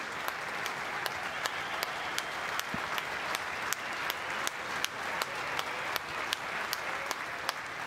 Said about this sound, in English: welcome Trish, Lincoln and Corinne to the field with a special round of applause.